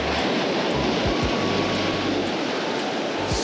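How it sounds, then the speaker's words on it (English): Ocean surf breaks along a jetty at Oceanside, California, a steady broadband wash of waves with wind buffeting the microphone, low thumps, and no talking. "Spooky waves."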